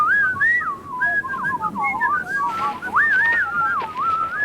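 A man whistles a wandering tune in clear, close phrases with brief pauses between them, alone without talk.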